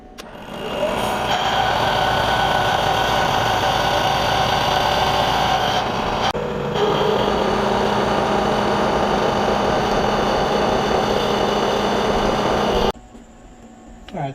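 An end mill cuts into raw steel in 200 thou deep passes, giving a loud, continuous, steady machining roar that holds for about thirteen seconds before cutting off abruptly.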